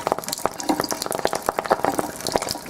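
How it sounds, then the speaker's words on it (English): Active hydrogen water fizzing and popping, a dense irregular run of sharp crackles and snaps, close and clear without talk. "Do you hear that snap, crackle, pop? Do you hear that popping?"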